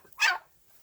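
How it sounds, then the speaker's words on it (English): A single short dog bark near a frozen-over water dish outside a chicken coop in below-freezing weather, one burst fairly close and alone. "dogs."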